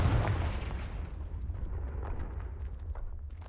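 The Confringo fire spell from Hogwarts Legacy bursts as a loud, booming blast right at the start, then fades into a long rumbling crackle that stays strong. There is no talk over it.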